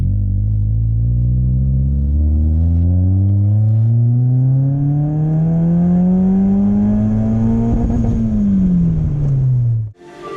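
A supercharged Mazda MX-5 Miata roars through a dyno pull, its engine note climbing steadily in pitch for about eight seconds, then dropping as the revs fall before cutting off abruptly; loud and close, with no talk.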